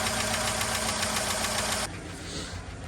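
A Chevy 5.3 V8 runs just after a timing chain replacement, its loud, busy rattle and ticking filling the first two seconds before the level drops and the engine settles into a quieter idle.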